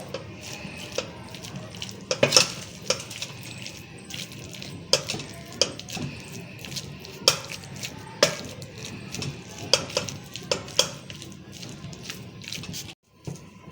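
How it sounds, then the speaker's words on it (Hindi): Boiled chicken and potatoes mashed in a metal pot with a utensil, heard as repeated close thuds, scrapes and clanks against the pot in an irregular rhythm over soft squishing, ending in a brief pause. "अब मैं इसको इससे मैश कर लेती हूँ।"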